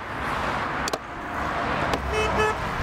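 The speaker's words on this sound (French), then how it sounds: "les automobilistes klaxonnent pour encourager le garçon" Car horns honk from passing motorists on a road in France, with a couple of short toots amid steady traffic noise, fairly near and loud.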